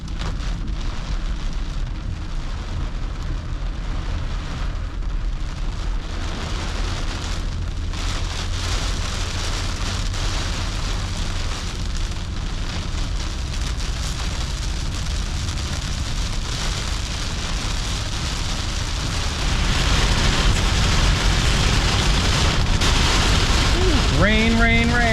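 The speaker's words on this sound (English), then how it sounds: "Rain, rain, rain." Heavy rain from a storm beats steadily on a vehicle during a storm chase in Indiana, a dense continuous roar that grows louder near the end.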